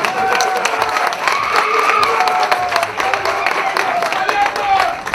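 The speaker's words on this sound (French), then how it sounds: "On applaudit pour lui." At a fan club launch gathering in Pointe-Noire, a crowd claps and cheers loudly and continuously, a thick rush of applause with a few louder individual claps and cries mixed in.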